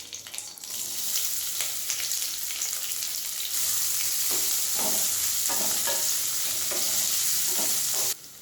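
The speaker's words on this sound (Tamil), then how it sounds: "இப்போ அடுத்து 1 கப் வெங்காயத்தை சேர்த்துக்கோங்க." Sliced onions frying in hot oil in a kadai with fennel, cinnamon and curry leaves, a loud steady sizzle broken by repeated scraping stirs of a spatula, close up and without talking.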